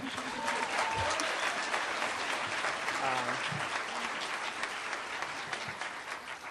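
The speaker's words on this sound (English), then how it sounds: "Please give me a warm round of applause" Sustained audience applause fills a graduation ceremony hall, steady and dense throughout, with a few voices and cheers rising briefly over the clapping.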